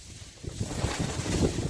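Gusty sea wind buffets the microphone outdoors while greenhouse film is being glued, rising from a low rush to a stronger, steady roar.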